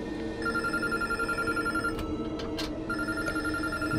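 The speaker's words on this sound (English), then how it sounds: "phone is ringing" A telephone rings in the Unknown Fate video game, two long electronic bell trills separated by a short gap, steady and fairly quiet over a low ambient hum.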